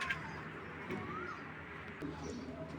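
A grizzle racing pigeon pair coos softly in a loft, low murmuring calls repeating under faint background noise and someone talking.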